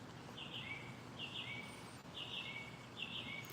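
A bird sings outdoors, repeating the same short chirping phrase about once a second. The calls are faint and heard against a low background hiss.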